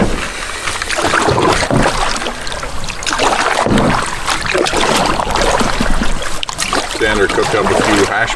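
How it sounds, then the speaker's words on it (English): A paddle works a canoe into the wind on open water, giving close swishes and splashes in rhythm over a constant rush of wind and water, with a voice talking across the strokes. "I'll paddle up here into the wind a bit and then just drift back down and troll"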